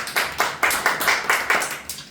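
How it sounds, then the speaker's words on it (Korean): A classroom of students gives a short burst of rhythmic clapping, about eight sharp, evenly spaced claps in unison, close and loud. "와, 박수 박수"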